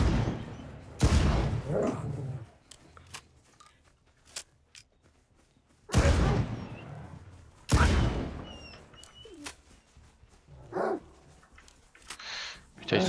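A pump shotgun fires at attacking dogs in the video game STALKER 2, with several loud, sharp blasts spaced seconds apart, dogs barking and yelping between shots, and a voice speaking at times.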